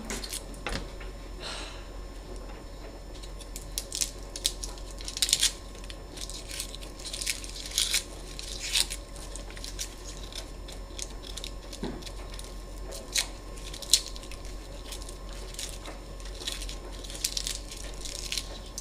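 A knife chops an onion on a board for ratatouille, giving irregular crisp cuts and crunches, sparse at first and then more frequent, quiet and close over a low steady hum.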